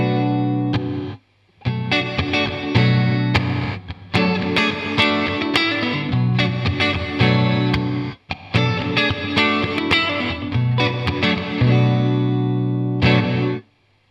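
A distorted electric guitar runs through a Boss RV-2 reverb pedal set to gated reverb, playing loud sustained chords whose reverb tails are abruptly chopped off, with short silent gaps between phrases.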